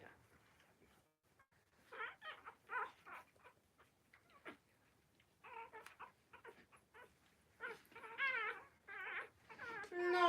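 A dog in labour whimpers and whines in short, high-pitched bursts that come in clusters, growing louder and more insistent toward the end, heard close up with no talking.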